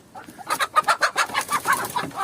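Several chickens cluck in a busy, overlapping run of short, rhythmic calls, fairly close and steady throughout.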